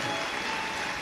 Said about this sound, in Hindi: एक बार जोरदार ताली बजाकर इनके लिए साधुवाद है।